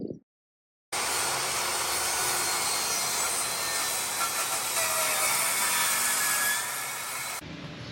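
Rough, continuous rasping of sanding on wooden shelves, close and steady for several seconds after a brief silent gap, then cutting off.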